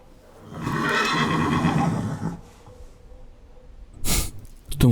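A horse neighs loudly in a long, shaky whinny lasting about two seconds, followed by quieter movement and a couple of sharp snorting or stamping bursts near the end, with no talk.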